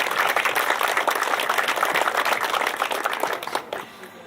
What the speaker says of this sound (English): a round of applause in these recognitions to the DAV Chapter 16